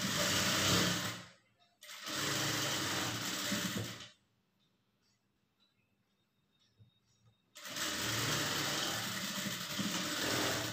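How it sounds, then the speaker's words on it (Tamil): A sewing machine runs loud and close as it stitches a blouse seam, with two bursts of steady whirring. A near-silent pause follows, then the machine starts up again. "இந்த மார்க்கிங்கை வச்சு நேராக வந்து தையல் போட்டுக்குங்க"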